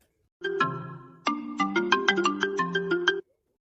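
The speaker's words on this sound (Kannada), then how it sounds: "ಅವ್ವ ಅಪ್ಪನ ಫೋನ್ ಬರತ್ತಿ" A mobile phone rings with an incoming call, a bright melodic ringtone of repeated chiming notes playing loudly and clearly for about three seconds, alone.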